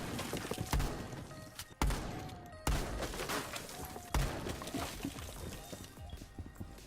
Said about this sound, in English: Open up all of this wall here. You require more than one shotgun to do this